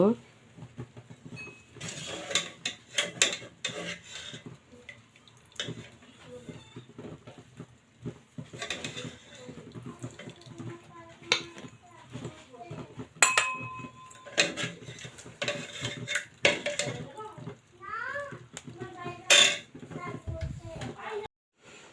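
A home cook serves mung dal cooked with fish head from a pot: scattered ladle clinks and metal scrapes against the pot, irregular and close, over a busy household background.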